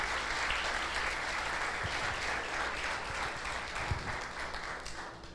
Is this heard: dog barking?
no